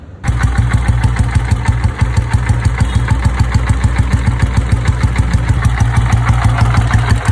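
Royal Enfield Bullet single-cylinder engine with an old carburetor setup idling close and loud, a steady, even thumping rhythm of firing pulses running throughout with no talk.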